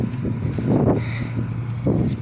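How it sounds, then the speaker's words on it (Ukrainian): Strong wind buffets the microphone in low rumbling gusts, rising and falling over a couple of seconds. "Ох і вітер."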